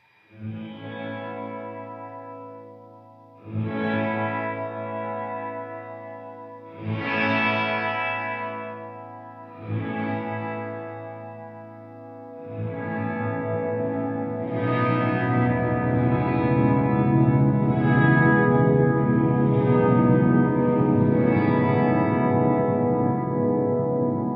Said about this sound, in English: So we're just having reverb, and I'll check the decay and the tone.